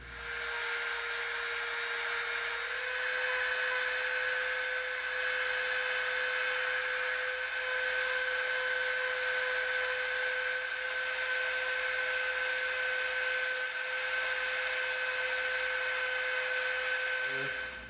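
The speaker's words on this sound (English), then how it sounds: "let's come in with our Dremel." Dremel rotary tool grinding glue residue off EVA foam for a cleaver prop, a steady high-pitched whine that holds evenly for the whole stretch with no talk over it.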